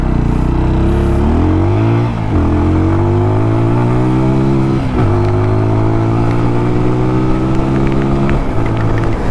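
A TVS Apache RTR 200 4V BS6 motorcycle in sport mode revs up hard through several gears, each pull rising in pitch before a quick shift dip, loud and close with no talk.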